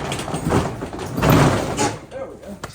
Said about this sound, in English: Let's get this door up.